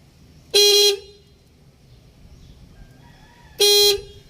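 Two loud, steady car horn blasts, each about half a second long, separated by a few seconds of quiet background, testing a repaired horn wire.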